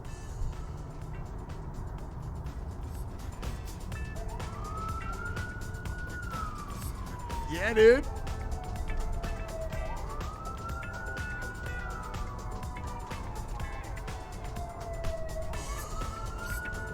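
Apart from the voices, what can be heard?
sirens of emergency vehicles at night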